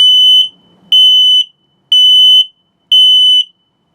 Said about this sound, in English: Carbon monoxide and low battery alert.